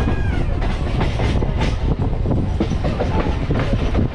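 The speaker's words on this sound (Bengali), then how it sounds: "এই দেখতে পাচ্ছেন আমাদের ট্রেন আস্তে আস্তে আলাদা হয়ে যাচ্ছে হাওড়া খড়গপুর মেন লাইনের থেকে" A local train on the Howrah–Haldia line runs at speed, loud steady rumble with rhythmic clickety-clack of wheels over rail joints and a faint squeal, heard from on board without talk.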